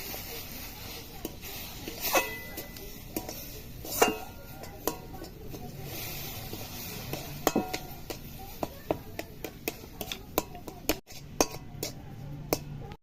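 Semolina being stirred in a pan with milk added little by little, heard as scattered clinks and scrapes of a spoon against the metal pan, fairly close, with a few brief pauses.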